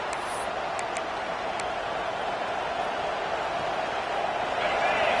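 A large football stadium crowd in a video game roars in a steady, dense wash of cheering and noise, loud and continuous throughout, with a few faint whistles early on.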